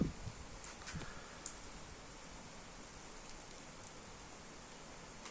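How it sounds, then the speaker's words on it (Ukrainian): Steady rain falls on an evening in Kharkiv during a summer thunderstorm, a soft, even hiss with a few faint drips near the start, fairly quiet and without voices. "дощ іде."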